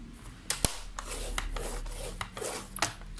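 A craft blade scores fold lines into paper for a handmade album, giving several short dry scraping strokes, close and fairly quiet, with brief sharper clicks between them.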